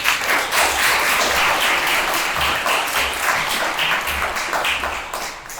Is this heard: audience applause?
yes